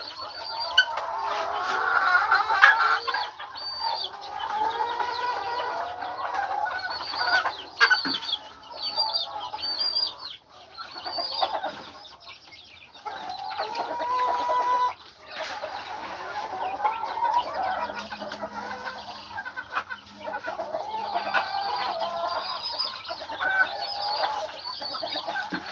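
Freshly washed chicks on a small farm in Aklan cluck and peep busily and continuously for a long stretch, close and dense, with brief lulls.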